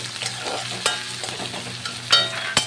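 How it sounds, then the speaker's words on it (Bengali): Chopped onions with whole cumin and chilli sautéing in a pan as the base for khichuri, a steady close sizzle broken by a few sharp scrapes and clatters of a stirring spoon. "পেঁয়াজ কুচি দেওয়ার পরে 2 মিনিট কিন্তু ভালো করে কষিয়ে নিতে হবে।"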